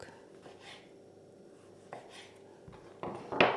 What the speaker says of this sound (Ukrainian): нарізаю от такими брусочками огурчик сюди ж.